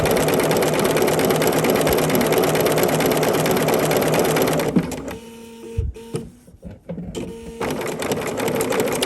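Sewing machine stitching appliqué runs steadily and loudly for several seconds, then stops while the fabric is pivoted with the needle down, and short bursts of stitching follow before it resumes.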